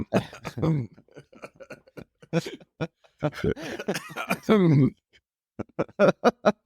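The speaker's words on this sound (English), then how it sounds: "I'm going to try and control that coughing fit." A run of harsh coughs breaks out amid speech, bursts coming in quick clusters, with a string of short sharp coughs near the end.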